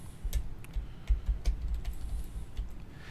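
Typing a search query on a computer keyboard: a quick run of light key clicks at a steady, uneven rhythm, close and moderately loud, with no talking.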